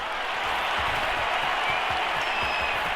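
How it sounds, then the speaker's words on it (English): A stadium crowd applauds and cheers steadily in the football video game Madden NFL 22, a continuous broad wash of clapping heard at a distance. "How about some applause for the defense there?"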